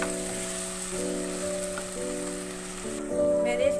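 Stew base of white ishtu fried on a high flame with garlic-ginger paste, a steady close sizzle running throughout with faint stirring, slightly louder near the end.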